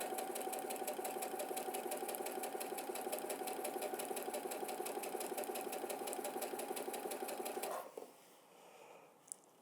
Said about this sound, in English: And I'll continue stitching like this all the way to the end.